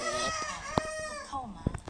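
Chicken clucking and squawking in a mobile video game, a few short bright calls over game effects and sharp clicks, with a voice talking alongside.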